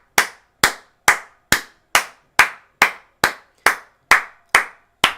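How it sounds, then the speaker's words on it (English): Twelve sharp, evenly spaced hand claps ring out loud and close, one person applauding alone at a steady rhythm during a live Premier League watchalong of Man City against AFC Bournemouth. "so we'll applaud here"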